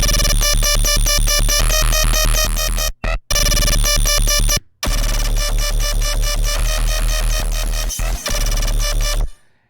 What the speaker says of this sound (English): So the main bass, it sounds like this.